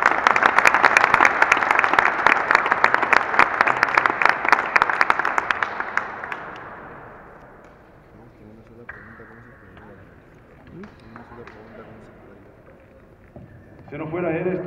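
An audience gives a loud burst of applause for a team of young players, dense clapping for about six seconds that fades away, followed by quieter murmuring and talking.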